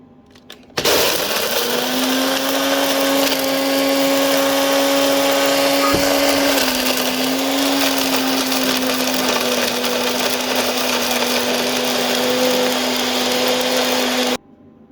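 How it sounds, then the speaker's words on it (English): A small bullet blender whirs loudly and steadily as it grinds dehydrated tomatoes into powder, starting abruptly, running continuously with a slight pitch shift partway, then cutting off. "A bullet blender to whiz that up into a powder."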